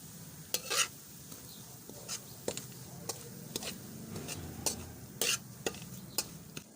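Semolina is stirred in a pan with fried cardamom for jaggery halwa, a low sizzle under repeated scraping and clinking strokes of a spoon against the pan, close and with no one talking.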